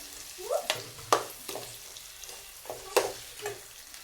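Tomatoes sautéing in a pan for a village-style vegetable biryani, with several sharp scraping stirs of a spatula over a soft sizzle, fairly close and without talk.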